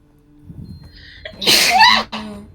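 One forceful sneeze up close, a short rising breath then an explosive burst, with faint murmuring before it.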